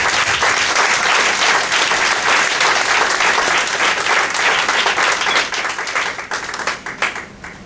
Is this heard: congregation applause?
yes